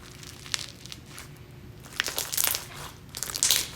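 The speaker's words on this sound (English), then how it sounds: "Good old crunchy slime." Crunchy slime is squeezed up close in bursts of crackling, crinkling crunches with faint pops, quiet between squeezes and sharper toward the end.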